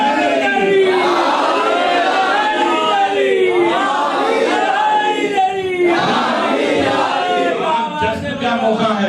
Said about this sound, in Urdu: جب کبھی کوئی نعرے حیدری بولیں گے